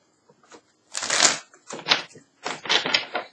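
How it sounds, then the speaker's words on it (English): Cards shuffled in several quick riffling bursts, crisp and close, with short pauses between them and no voices. "So let me get this deck and shuffle it"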